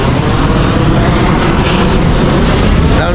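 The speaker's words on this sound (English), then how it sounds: "Hammy, plane, look at plane." Aircraft flying overhead, heard as a loud, steady broadband roar that holds for the whole stretch with no pauses.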